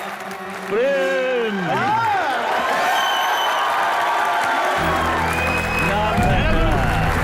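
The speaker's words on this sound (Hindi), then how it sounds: "प्रेम चोपड़ा साहब को बुलाओ। जोरदार तालियां।" Studio audience bursts into loud, sustained clapping and cheering to welcome actor Prem Chopra on a comedy talk show, while a host's voice talks over the crowd.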